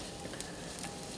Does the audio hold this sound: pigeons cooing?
no